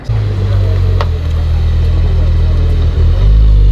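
A Mercedes-AMG GT S sports car in solar beam yellow idles and rumbles close by at a New York City supercar meet, a loud steady low engine drone that swells near the end.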